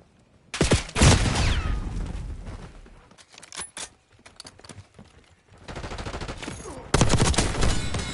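Call of Duty Black Ops 6 multiplayer gunfire on the Babylon map, arriving in separate loud bursts: a heavy opening volley, sharp isolated shots in the middle, then renewed rapid automatic fire toward the end, with no voices.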